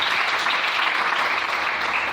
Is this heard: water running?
no